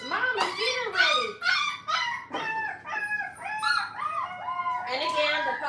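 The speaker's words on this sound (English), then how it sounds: "the puppies are just crying" Puppies cry and whine in a string of rising and falling yelps and howls, close and fairly loud, continuing almost without pause throughout.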